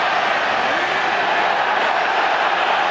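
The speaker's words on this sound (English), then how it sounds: "The crowd are unhappy." A football stadium crowd at a Barcelona home match against Almería in the 2008-09 season gives off a steady, dense roar that carries displeasure, a continuous wash of many voices with no clear breaks.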